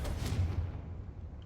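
A Confringo blasting spell from Hogwarts Legacy goes off as a single close boom with a heavy low-end burst that decays over about a second.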